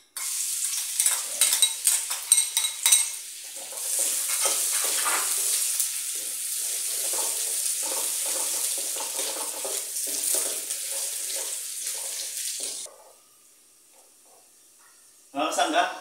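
Garlic dropped into hot oil in a pan while cooking beef halang-halang, sizzling and hissing steadily at close range with stirring scrapes, then briefly quieting before a fresh burst of frying at the end.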